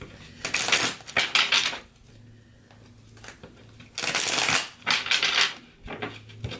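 Tarot cards are shuffled up close in two long, crisp riffling bursts, separated by a quieter stretch with light handling sounds.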